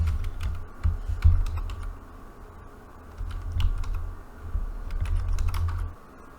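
Rapid typing on a computer keyboard while composing text in writing software: close, crisp key clicks in uneven bursts with short pauses between them, and no talking.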